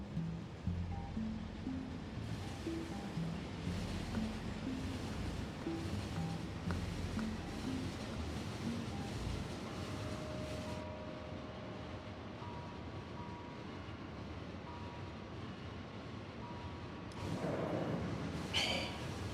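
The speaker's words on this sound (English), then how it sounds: "Calcite train, I would like you to drive me to calcite drop-off" A train in the game Factorio rolls along with a steady, even rushing hum, a soft continuous rumble with faint tones and clicks, growing slightly louder near the end.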